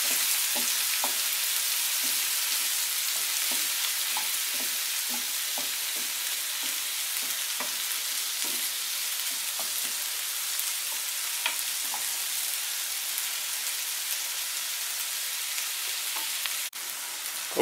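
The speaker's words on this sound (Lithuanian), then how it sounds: "Pomidorai kepa" Tomatoes sizzle in a pan with onions and garlic already frying, a steady broadband crackle with small pops scattered through, close and constant with no talk.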